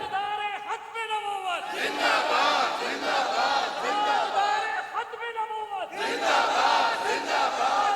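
Large crowd at a religious conference loudly chanting slogans in unison, bursts of massed voices rising and falling in waves, with a leading voice calling out between responses.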